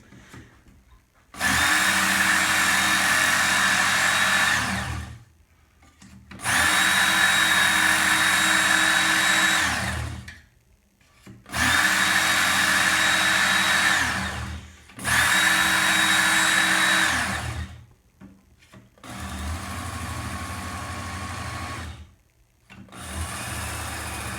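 A Ken Onion Work Sharp belt knife sharpener runs in several bursts of a few seconds each, with short pauses between them. It is a steady, loud motor whine with belt hiss, and the final run is slightly softer.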